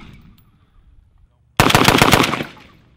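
Rifle Dynamics 704M AK rifle fired in a fast burst of about a dozen sharp, loud shots after a brief quiet pause, the reports ringing out and fading at the end.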